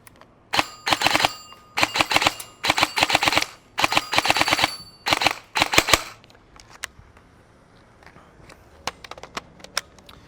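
A G&G SSG-1 airsoft AEG fired in rapid full-auto bursts, sharp mechanical clatter in five or six close, loud strings, followed by a few scattered single shots and quieter clicks.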